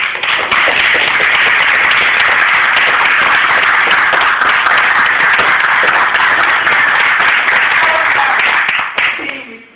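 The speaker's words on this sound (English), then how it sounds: "if you would please just give all of the candidates a round of applause." A loud, dense round of applause from a debate audience for district council candidates, with clapping sustained throughout before cutting off near the end.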